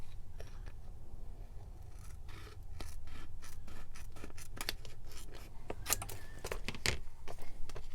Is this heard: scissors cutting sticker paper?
yes